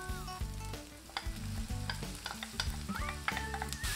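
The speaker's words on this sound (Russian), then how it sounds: "Как сковорода разогреется, кладем жариться репчатый лук. Буквально жарим пару минут и следом добавляем фарш." Chopped onion and minced meat frying in hot oil in a deep pan, a close continuous sizzle broken by repeated scraping and stirring clatters of a utensil against the pan, with no voices.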